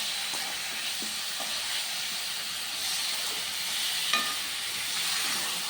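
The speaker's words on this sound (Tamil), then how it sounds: "பெரிய வெங்காயம், பூண்டு, இஞ்சி, வரமிளகா, தக்காளி எல்லாம் நல்லா இப்போ வதங்கிட்டு இருக்குது" Onion, garlic, ginger, dried red chilli and tomato sauté in hot oil, giving a steady close hiss and sizzle with a few faint stirring knocks scattered through, and no voices.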